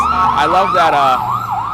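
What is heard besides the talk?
emergency vehicle sirens approaching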